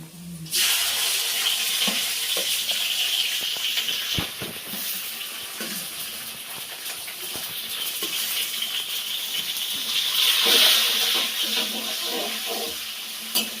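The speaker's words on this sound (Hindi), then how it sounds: "ऐसे हम एकदम से भून लेंगे और फिर मैं इसमें हरी मिर्च डाल दूँगी" Ingredients being fried with green chillies in a pan, a close crackling sizzle with scattered clinks and stirring knocks, swelling louder near the end, with no speech.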